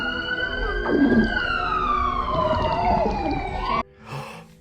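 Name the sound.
police siren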